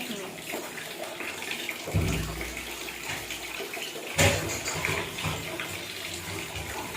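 Water runs and splashes as a doll's face is washed, a continuous close trickle with two sharper splashy bursts partway through.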